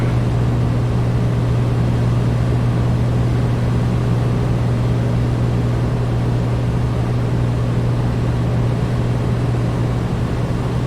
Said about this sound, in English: pull the mixture out until you feel the engine stumble